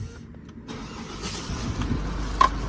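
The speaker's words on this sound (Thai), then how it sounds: "นี่ผมสตาร์ทอยู่ตรงนี้เหยียบเบรกกดปุ่ม" Isuzu MU-X RS started by push button with the brake held, a short crank catching into a steady idle that builds and stays up, recorded close inside the cabin with no talking.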